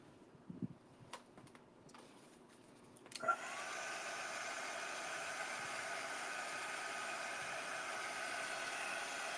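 After a few soft knocks and handling sounds, a hair dryer switches on to dry freshly painted lids and runs with a steady, close whirring hiss for the rest of the span.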